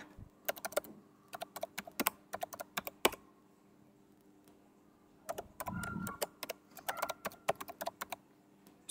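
Soft clicks of a computer keyboard come in two quick, uneven runs separated by a short pause, faint and close in a quiet room.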